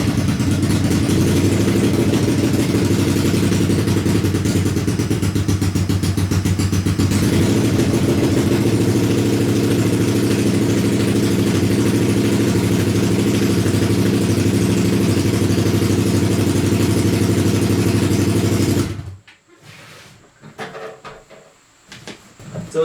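A scrap yard engine idling low after a choke start, a loud steady drone with even pulsing that runs unbroken for about nineteen seconds, then cuts off, leaving faint clicks and rustles.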